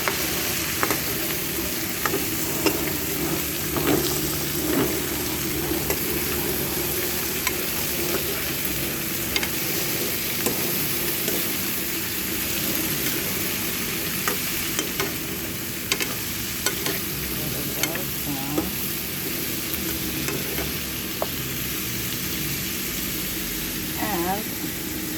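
Calabaza squash sautéing in a pan for mung bean soup with pork, a steady dense sizzle with occasional scraping stirs, close and continuous over a low background rumble.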